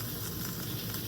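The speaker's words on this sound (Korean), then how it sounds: "튀기는 게 맞네." Beef or turkey burger patties frying in a pan, giving a steady, close, fairly quiet sizzle with crackling texture throughout and no talk.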